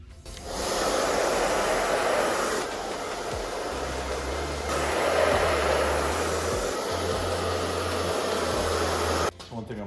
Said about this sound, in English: I'm also going to heat the deck lid surface up just to, so the tape bonds to it nicely.